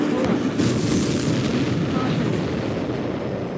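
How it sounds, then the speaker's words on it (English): A supply ship blowing up in the Ace Combat 7 video game gives a dense, rumbling explosion roar that holds steady and loud throughout. "Did you see that explosion?"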